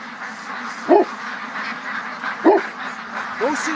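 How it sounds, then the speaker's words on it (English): A duck gives three short quacks spaced evenly over a steady background hum, fairly close by, with a voice talking faintly around the calls. "I just heard a bird"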